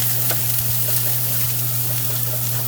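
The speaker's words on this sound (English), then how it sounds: "Now we're gonna add in that onion we chopped." Chopped onion sizzles in a hot pan while cooking toward translucent, a steady close frying hiss with faint crackles over a low background hum, no talking.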